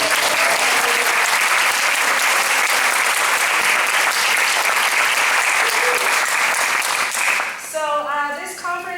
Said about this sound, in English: I want to give us a round of applause for showing up today.